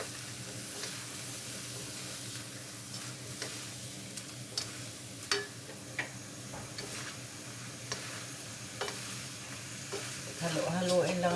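Calderita sizzles as it fries in a pan, with irregular scraping and ticking stirs of a utensil over a steady frying hiss, no one talking.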